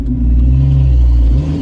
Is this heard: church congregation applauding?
no